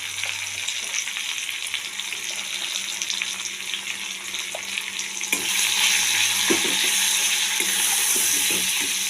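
Chili and cumin powder fry in hot oil with a steady, close sizzle, growing louder and brighter partway through, with a few faint scrapes and no talking.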